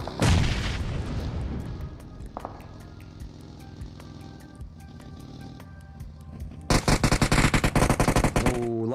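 Rapid bursts of automatic gunfire and heavy booms in a PUBG Mobile battle royale match, dense shooting throughout with a louder, sharper volley of close shots near the end.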